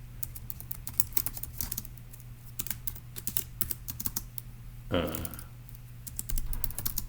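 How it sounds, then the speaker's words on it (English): Typing a note on a computer keyboard, a steady run of close, crisp keystrokes with a brief burst of speech midway through. "let me go ahead and type a note here"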